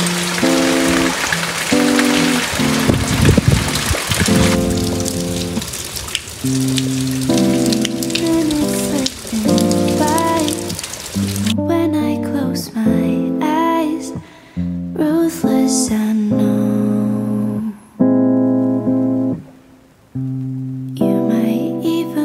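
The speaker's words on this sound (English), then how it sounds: "we woke up to some beautiful, the beautiful sounds of rain" Steady rain falls outside a house in the morning, a constant close patter that carries on with tuneful background music layered over it.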